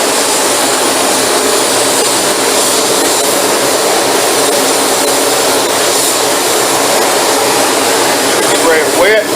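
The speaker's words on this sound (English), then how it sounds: "We're getting ready to spray our silver." A spray gun lays a silver finish coat onto a stained door, giving a continuous loud hissing rush of air that runs steadily for the whole stretch, close by with no gaps.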